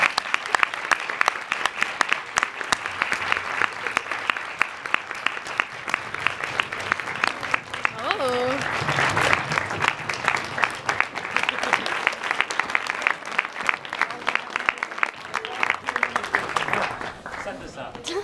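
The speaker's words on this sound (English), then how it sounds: "Can we have another round of applause for all the speakers tonight?" Sustained audience applause for a group of speakers, many hands clapping in a dense, continuous wash for a long stretch, with a brief voice breaking through midway and the clapping thinning at the very end.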